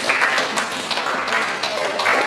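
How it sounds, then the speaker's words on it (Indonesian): A classroom group claps, giving brief, loud, scattered clapping with no talk over it. "Oke, tepuk tangan untuk Gigi"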